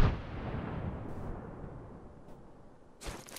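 A grenade detonates in a Portuguese-language battle royale shooter, a heavy low boom that rolls out and slowly decays over a few seconds, followed by a sharp noisy burst near the end.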